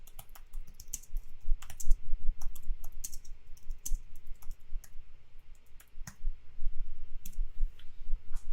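Steady typing on a computer keyboard, close and fairly loud, with rapid irregular clicks running continuously for several seconds and no speech.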